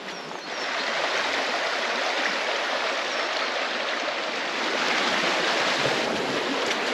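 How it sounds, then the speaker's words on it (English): A small stream running along the bottom of a valley on the Long Mynd hills, a constant bright rushing and babbling of water, close and steady with no voices over it. "I'm now at the bottom of the valley and we're just following the stream to start heading up."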